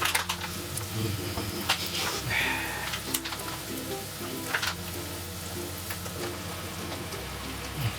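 Beef and pork mince frying in a pan for ragù, a steady close hissing sizzle with scattered pops and crackles throughout, and faint background tones underneath.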